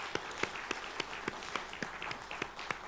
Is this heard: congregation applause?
yes